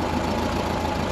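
A 1978 VW Beetle Cabriolet engine idling: a steady, even rumble that fills the whole second without pause, close and fairly loud.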